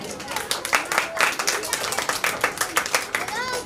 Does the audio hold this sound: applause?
yes